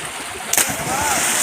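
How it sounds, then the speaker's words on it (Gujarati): A brief, sharp splash of water in a canal cuts through flowing water and background voices. "કેટલો બહુ પાણી ઉડાડ્યો પણ તે"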